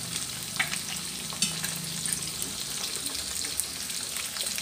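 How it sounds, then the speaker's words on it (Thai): Sun-dried beef frying in oil in a pan over medium heat, giving a steady dense sizzle and crackle with small pops throughout, heard close with no talking. "ทอดไปเรื่อยๆจนเนื้อของเฮาสุกแล้วค่ะ"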